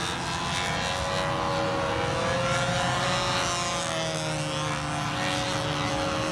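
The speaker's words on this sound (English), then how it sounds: "we're picking up Rich Jacobone's flight" Model aircraft in flight, a steady nasal propeller engine drone heard at a distance, holding a constant pitch with slight rises and falls throughout, continuous and without speech.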